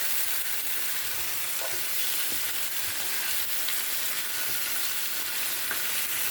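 Chicken wings sauté in a pan with onions, tomatoes and garlic, producing a loud, steady, broadband sizzle close by with faint stirring taps.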